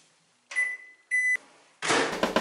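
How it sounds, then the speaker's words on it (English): Microwave oven with a Tommee Tippee steam steriliser holding baby bottles gives two clear electronic beeps, a longer tone then a shorter one, close and fairly loud, followed by a burst of rustling, clattering handling noise. "let's get this in the microwave"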